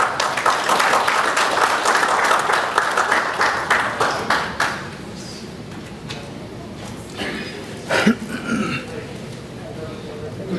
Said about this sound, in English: Round of applause for Councillor Manda